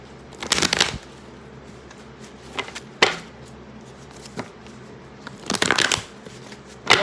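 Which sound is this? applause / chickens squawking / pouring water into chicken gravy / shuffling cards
shuffling cards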